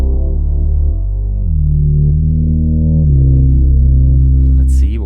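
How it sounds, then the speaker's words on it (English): A loud, deep synthesizer bass preset called bass filter drones in steps between low notes, with a brief bright swell near the end. "The next one is a bass sound."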